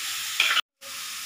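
Grated carrots frying slowly in hot ghee for gulab-style carrot halwa, a soft steady sizzle with a brief louder crackle, then a short silent gap before the gentle frying resumes.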